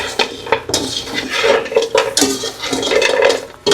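Fried tofu and pork get tossed in a metal pan, with clattering utensil scrapes and clinks in quick irregular strokes, close and fairly loud.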